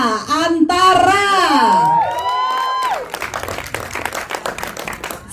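At a film press conference for the trailer and poster launch of Sukma, a voice or cheer rings out at first, then scattered, crackling applause takes over from a crowd welcoming a guest and continues to the end.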